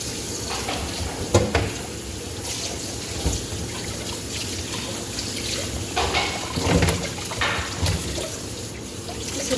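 Large fish rinsed under a running tap, steady splashing and trickling water with occasional clatter of a pan or basin, close and continuous.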